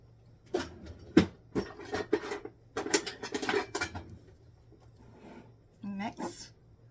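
Dry rub of paprika, onion powder, salt and pepper stirred in a bowl, giving scattered scraping and clinking bursts with a few sharper knocks, then a quieter pause and a final burst.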